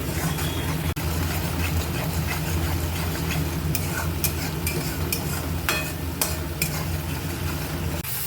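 A paste of cumin, mustard and green chili fries in oil with nigella seeds, giving a constant loud sizzling hiss with a low background rumble, then a cluster of brief sharp scrapes and spatters late on, with no speech.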